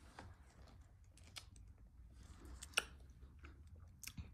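Someone chews a cold, sour grape-flavoured snack close up, with wet, crunchy bites and squishy mouth sounds scattered unevenly over a quiet background, a few sharper crunches standing out.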